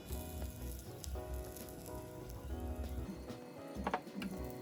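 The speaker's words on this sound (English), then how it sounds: "When the pan is hot, I'm gonna put tuna in." Tuna frying in a hot pan gives a quiet, steady sizzle and crackle, with a few small pops near the end and no talking.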